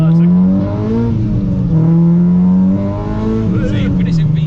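A K-swapped Honda Civic EG with a Honda VTEC engine pulling hard from inside the cabin, a loud steady engine note rising through the revs, dipping briefly at a gear change, then climbing again, with a voice speaking over it.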